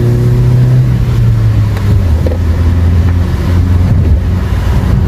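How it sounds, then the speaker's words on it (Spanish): A Chevrolet Aveo, lifted with 4 cm rubber suspension spacers, accelerating hard on a test drive, its engine a loud steady drone that climbs in pitch, with heavy wind rush over the microphone. "Vamos a acelerar el carro lo que más podamos."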